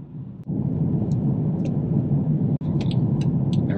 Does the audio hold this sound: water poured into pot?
no